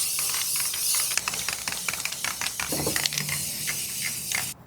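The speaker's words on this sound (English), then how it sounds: "We just have this matte black spray paint that we're gonna put on here" A can of matte black spray paint hisses in short and longer bursts, close up, with small rattles and clicks between sprays.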